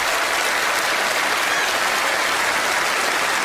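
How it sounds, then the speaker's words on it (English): A crowd at a magician's show breaks into loud, sustained applause, thick and unbroken clapping from many hands that holds steady throughout. "let's give him a big round of applause"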